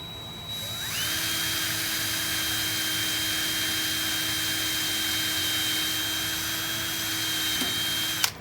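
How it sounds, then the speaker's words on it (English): A power drill bores a hole in a small turned wooden lace bobbin. It makes a steady, high, whining drone that holds for about eight seconds, then cuts off sharply. "So I'm going to drill a hole"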